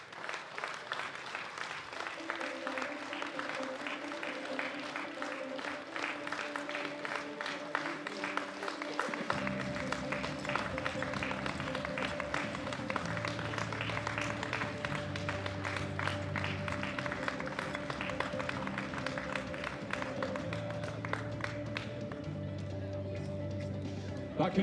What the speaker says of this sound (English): please join me in giving these amazing ladies a round of applause